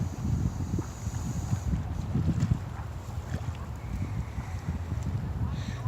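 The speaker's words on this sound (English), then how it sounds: "It's a little bit of a wind here, which is absolutely beautiful." Steady wind blows along the Bow River bank, a constant broadband rush with low buffeting across the microphone throughout, no clear voices.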